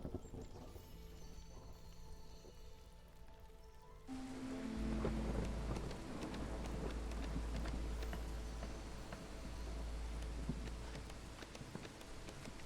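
Storm ambience from the settlement-building video game Against the Storm: after a quieter stretch, steady heavy rain sets in with a low continuous rumble of thunder underneath, holding loud and even to the end.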